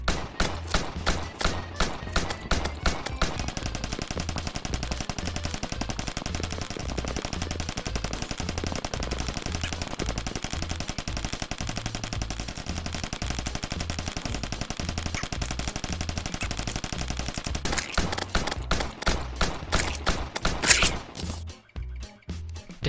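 Rapid pistol gunfire from the Venus Magnum in the video game Terraria, a dense, steady stream of shots over a thumping music track, continuous and loud for about twenty seconds before a final burst of separate shots.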